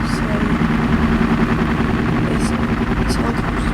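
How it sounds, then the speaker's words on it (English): Helicopter in a Minecraft-style aircraft carrier mod, a steady low engine drone with rotor rumble running throughout at even loudness, some speech-like texture mixed in. "this helicopter is pretty cool though."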